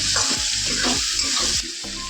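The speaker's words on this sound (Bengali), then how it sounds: "তো চিকেনটাকে ভেজে রান্না করব" Chicken frying in a pan for a home-cooked Bengali meal, loud steady sizzle with repeated stirring scrapes, no voices.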